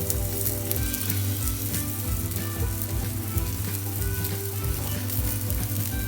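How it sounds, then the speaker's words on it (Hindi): A makki atta aloo pyaaz paratha fries in ghee on a pan with a steady, close crackling sizzle and soft scraping or stirring movements, heard without talk. "देखिए, ब्राउन हो चुका, घी लगाएंगे हम इस पर।"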